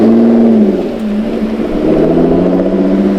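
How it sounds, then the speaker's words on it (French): A car engine hums steadily at close range, its pitch dipping and then climbing as the vehicle pulls away, loud and continuous with no speech over it. "Pierre, Samuel, fallait que je montre le départ de la voiture."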